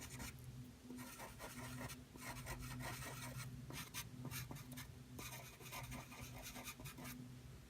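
Pastel pencil blending gray into a sky on paper, a steady close scratchy rubbing with short strokes and brief pauses, no voices.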